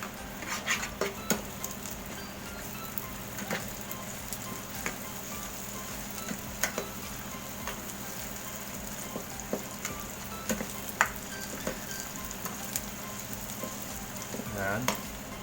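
Sisig sardines with egg frying in a pan, stirred with a utensil: a steady, gentle sizzle runs throughout, broken by scattered light clinks and scrapes against the pan.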